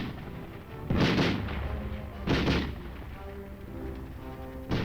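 Weapons fire from Republic of Korea soldiers in training, including a BAR automatic rifle, heard as two loud, sharp bursts about a second apart over a steady background rumble.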